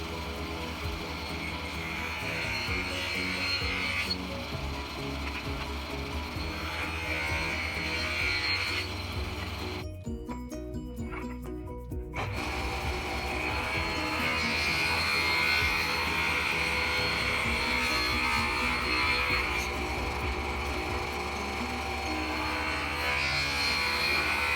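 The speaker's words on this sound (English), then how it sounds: "I started ripping the oak and the walnut into thin strips" Table saw ripping oak and walnut boards into thin 1/8-inch strips for a wooden bow tie, a loud steady whining roar that runs continuously with a brief quiet break in the middle, no voices.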